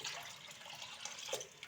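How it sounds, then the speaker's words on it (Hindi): Three cups of water pour steadily into a wok holding plum pulp while preparing plum chutney: a continuous soft splashing gush, fairly quiet and close, with no speech. "यहाँ पर जो है वो मैं 3 कप जो है वो पानी शामिल करूँगी"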